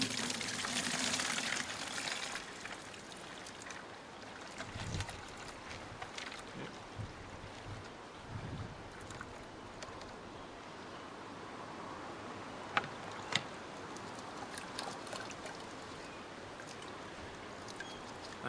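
Water and sprouting grain tipped from a tray through a sieve into a bucket, a steady faint pouring wash with a few brief knocks and splashes.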